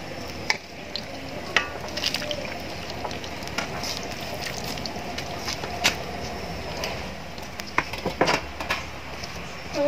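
French fries made with rice powder fry in hot oil, giving a steady, dense sizzle and crackle with scattered sharper pops throughout, close and continuous, with no voices.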